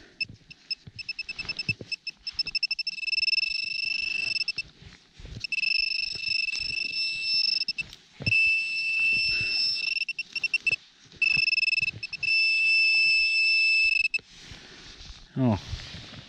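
A steady two-tone electronic beep from a metal detector, sounding in long pulses broken by short gaps, with faint rustling and movement beneath.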